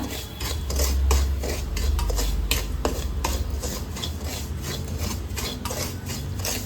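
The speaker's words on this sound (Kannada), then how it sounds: "ರವೆನ ಚೆನ್ನಾಗಿ ಹುರ್ಕೊಳ್ಳೋಣ" Semolina roasting in ghee in a pan for jackfruit halwa, with a spoon scraping and stirring in a steady, continuous rasping rhythm close by.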